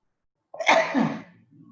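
A single loud sneeze bursts out during a religious lecture, sharp at onset and trailing into a brief, quieter breathy tail, with no talk over it.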